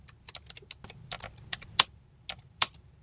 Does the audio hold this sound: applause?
no